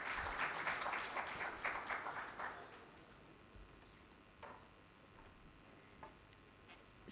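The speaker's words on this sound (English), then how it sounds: "Let's have a huge round of applause." Audience applause for guests being felicitated at a formal ceremony, a moderate burst of clapping that fades out after about three seconds, leaving a quiet room with a few faint isolated claps.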